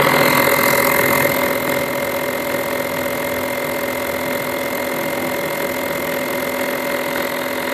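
A Bisen A9 handheld air pump runs continuously with a steady mid-pitched motor drone and faint mechanical whine, close and unbroken throughout.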